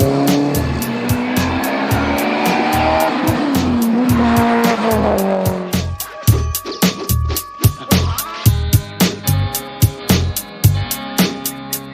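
A Mitsubishi Evo sports car drives hard with engine roar and squealing, skidding tires, then fast repeated pulses of passing or revving noise in a steady rhythm, loud and close with no voices.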